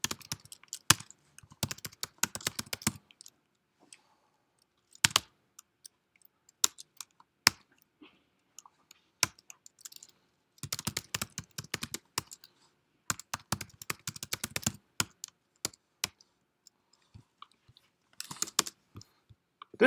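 Computer keyboard typing while writing code, in bursts of rapid clicking keystrokes separated by silent pauses, close and fairly clear.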